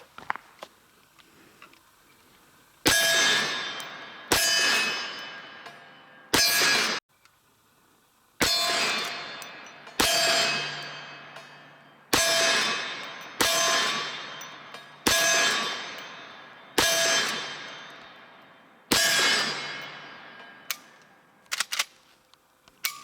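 Henry Big Boy All-Weather .357 Magnum lever action rifle firing Sig Sauer V-Crown 125 grain rounds: about nine loud, sharp shots, spaced a second or two apart, each trailing off with a ringing decay, and lever clacks in the gaps.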